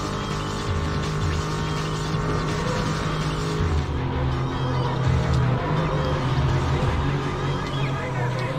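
A car races in the video game Need for Speed, its engine droning loud and steady throughout, mixed with the noise of other racers.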